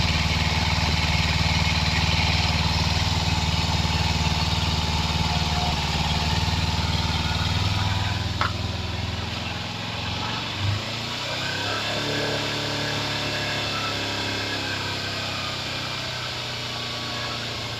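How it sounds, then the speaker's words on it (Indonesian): A Kawasaki Z250FI motorcycle engine runs steadily at about 3000 RPM, a close, loud, continuous hum with an even exhaust drone, a brief blip near the middle, and no talking. "didengarkan ya bunyi mesinnya"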